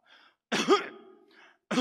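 A man gives a single forced, loud cough with a rough throat-clearing quality, preceded by a faint breath and followed by the start of another harsh cough, close and alone with no talk.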